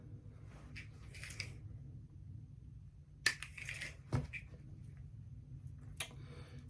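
Scissors trim the tag end of a fishing-line knot on a Spanish mackerel trolling rig: two short, sharp snips, close but quiet, over a low steady background hum.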